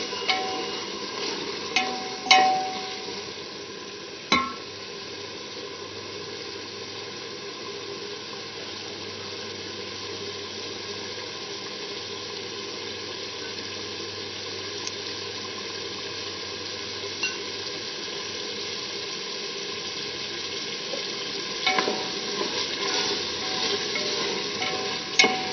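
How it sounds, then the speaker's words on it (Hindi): Pumpkin tossed with salt, chilli and spice masala fries in a pan with a steady, close hiss that runs the whole time, broken by a few sharp scrapes of a spatula at the start and again near the end; no voices. "खूब भूनें ताकि हमारे कद्दू के अंदर नमक मिर्च मसाला जो है अच्छे से जज़्ब हो जाए"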